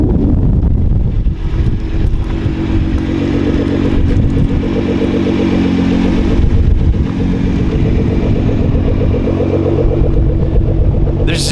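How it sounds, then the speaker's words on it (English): Twin-turbo car wrapped in 3M midnight purple, its engine running with a deep, steady rumble, loud and close, joined by wind noise and some clatter throughout. "do I love the sound of those turbos"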